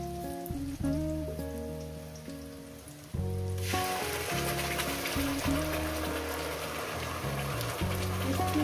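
Ground spice paste sizzles in a pan of deep-fried onions for chicken scrap curry, a quiet hiss that jumps sharply louder partway through when the paste hits the oil, then keeps crackling steadily under a faint musical hum.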